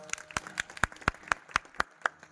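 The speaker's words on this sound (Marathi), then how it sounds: "एकदा त्यांच्याकरता टाळी वाजव।" Audience clapping at a Marathi devotional kirtan: a steady, rhythmic run of sharp hand claps, roughly four per second, fairly close and alone without talk.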